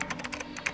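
Rapid keystrokes on a computer keyboard, about seven or eight clicks in quick, uneven succession, close and moderately loud.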